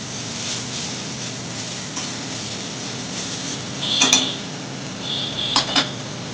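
A spoon stirs chicken curry in a pot over a steady low hiss of cooking, with a few bright metallic clinks and scrapes clustered near the end.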